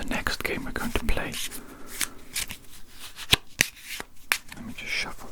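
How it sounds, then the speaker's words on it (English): A deck of playing cards is shuffled up close, with riffling, flicking and snapping card sounds in bursts and sharp taps, quiet and intimate, with soft whispering in the background. "Let me just shuffle these cards back in."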